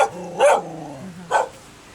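A dog in a village in Sapa, Vietnam, gives two loud, close barks about a second apart, with a quiet gap between them and no talking.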